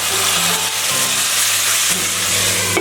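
Chopped tomatoes sauté in a hot pan of onion base for a restaurant-style Tamil egg gravy, a loud continuous sizzle and hiss up close with a few faint stirring scrapes.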